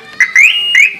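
A 2018 Maruti WagonR car alarm system gives two short electronic chirps, rising in pitch, close and clear with no talking over them.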